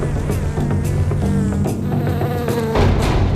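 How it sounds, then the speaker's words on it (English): Worker bees buzz in a dense, continuous drone close by, several insects humming at once with shifting pitch. "Worker bees are on the clock."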